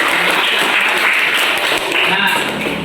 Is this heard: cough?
no